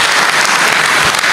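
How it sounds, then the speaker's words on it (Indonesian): Steady applause from an audience at a political speech, dense and even, filling the whole short moment with no voices over it. "Ya tepuk tangan aja lah"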